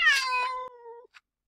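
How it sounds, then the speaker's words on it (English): A cat shut in a carrier lets out one long, drawn-out moaning meow. It is close and clear, starts strong, then tapers off, and a brief faint chirp follows after a pause. "we have Compis in his cat carrier, and he's moaning like this"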